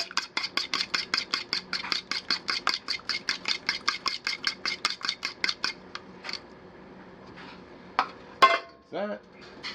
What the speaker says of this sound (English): So I need to whip before I can add it in there. So you whisk it up.